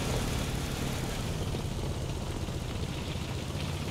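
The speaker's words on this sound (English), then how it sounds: "It's a loud engine on this Sherman." The engine of an M4 Sherman tank in the War Thunder video game gives a loud, steady, broad rumble that holds level throughout, with no talk over it.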